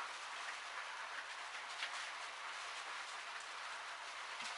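Steady hissing video game rain falls continuously, a dense even patter at low volume with no talking.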